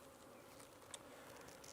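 Honey bees at an opened hive drone in a soft, steady buzz, quiet and brief, with a few louder passes as individual bees fly close.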